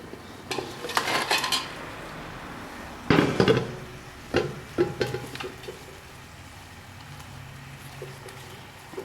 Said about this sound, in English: now we're gonna just add our potatoes in